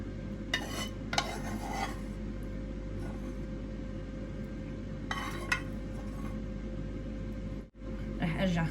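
Fava beans in oil are stirred in a pan with a utensil, giving a few scraping clinks and rattles in short bursts over a quiet kitchen background with low hum.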